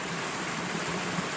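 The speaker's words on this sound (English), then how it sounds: "the water wheel starts." A steady rush of flowing, splashing water, close and unbroken, like a stream pouring over a turning wheel.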